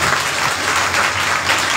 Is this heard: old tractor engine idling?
no